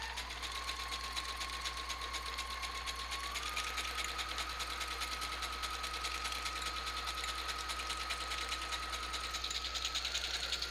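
A sewing machine set to zigzag stitches steadily through paper for a junk journal, a continuous close whirring motor hum with a rapid rattle that shifts slightly in pitch partway through, no one talking.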